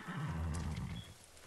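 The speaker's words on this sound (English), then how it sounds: "And I've got a brown horse here." A horse in the video game Ghost of Tsushima lets out a short, fairly quiet neigh lasting about a second, then trails off.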